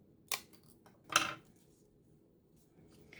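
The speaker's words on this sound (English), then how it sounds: "I'm going to trim this piece off a little bit" Scissors trim a paper strip for a fall sunflower wreath: two crisp snips close to the microphone, the second louder and longer, in a quiet room.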